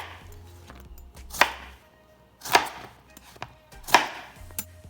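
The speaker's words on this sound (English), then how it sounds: "Next step is gonna be to juice some lemons into here. Just gonna half up some lemons." A knife halving lemons on a cutting board while a Tuscan kale salad is prepared, giving three distinct crisp chops spaced about a second apart, close and clear, with no talking.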